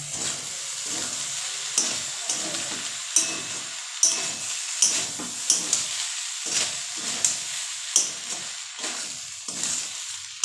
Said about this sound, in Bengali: এবার একটু নাড়িয়ে চাড়িয়ে নামে নেবো